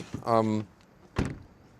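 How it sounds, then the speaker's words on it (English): The frameless door of a Smart #5 electric car shuts once with a short, dull thud, heard close and preceded by a brief voice. "Then again, it's against noise, door closing sound."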